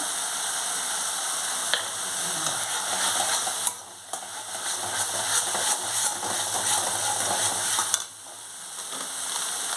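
Bengali spice paste (masala) for a prawn-stuffed pointed gourd dorma sizzles steadily in a pan, with a bright continuous frying hiss broken by a few sharp stirring scrapes and brief dips.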